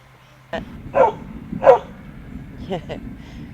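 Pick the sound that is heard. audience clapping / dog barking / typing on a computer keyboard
dog barking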